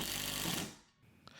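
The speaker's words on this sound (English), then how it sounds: "I was able to drill the first screw into the bracket." A power drill drives a screw through a TV wall mount bracket into a stud, making one short, loud whirring burst that cuts off after under a second, followed by faint quiet.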